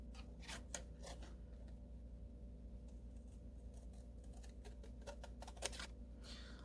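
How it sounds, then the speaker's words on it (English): Scissors snip through paper while fussy cutting pieces for a holiday card, a series of quiet, crisp cuts in irregular bursts over a low steady background hum. "So just gonna fussy cut this with ease."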